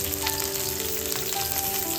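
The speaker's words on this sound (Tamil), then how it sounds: "நம்ம கட் பண்ணி வச்சுருக்க சின்ன வெங்காயத்தை சேர்த்துக்கலாம்." Small shallots hitting hot oil already tempered with fennel, fenugreek and curry leaves for a drumstick poriyal, giving a steady, loud, close sizzle that fills the whole stretch without a break.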